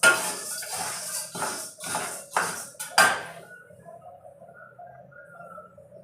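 Sago pearls dry-roasted in a pan for papad, with a run of sharp metallic scrapes and clinks from the first three seconds that then fades to a quiet rustle.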